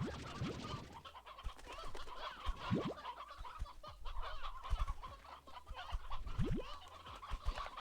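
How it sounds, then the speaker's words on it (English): Chickens on a ranch clucking and squawking close by, a busy flock of short overlapping calls that run steadily throughout. "Look at all them chickens."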